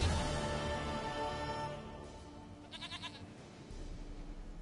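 A goat in The Witcher 3: Wild Hunt gives a short, quavering bleat midway through, sitting under a heavy droning game music bed that carries on before and after it.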